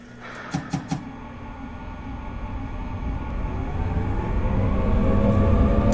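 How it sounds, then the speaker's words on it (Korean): A Seoul Metro subway train pulls away from a station, its low rumble and motor hum building steadily louder over several seconds after a few brief clicks at the start. "진로 양호, 열차 발차."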